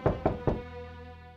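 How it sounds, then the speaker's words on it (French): Three sharp knocks on a door come at an even pace, loud and close, followed by a short quiet stretch and the start of another sound. "Je vais aller voir qui frappe à la porte."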